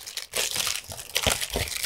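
Plastic packaging for a Star Wars Nubs toy figure being opened, close and continuous crinkling and crushing with several sharper crackles, loud and steady, with no talk over it.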